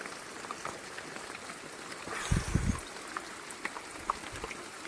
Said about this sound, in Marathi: पाऊस खूपच आला आहे